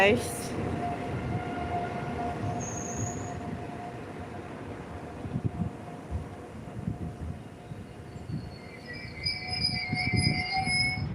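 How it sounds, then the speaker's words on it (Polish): A Polregio EN76 electric multiple unit train rumbles past at a distance at Toruń Główny station with a steady low drone and rhythmic wheel clatter, faint squeals rising near the end. "Jedzie pociąg. Polregio EN76."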